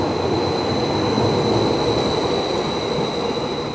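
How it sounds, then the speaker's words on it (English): A Great Western Railway train rumbles steadily throughout, a constant close broadband roar with a faint high whine and no voices. "it's totally a Great Western Railway train"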